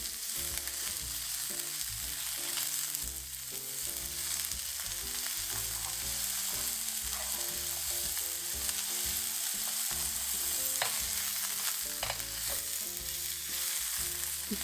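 Shrimp fry in a pan for Vietnamese banh xeo, with a continuous steady sizzle throughout and occasional scraping clicks from stirring, heard close with no talking over it.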